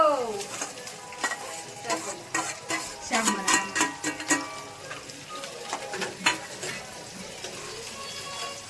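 Mixed vegetables with tomato, onion and chili fry in a pan, a soft sizzle broken by repeated scraping stirs and light clinks of utensil on metal, close by.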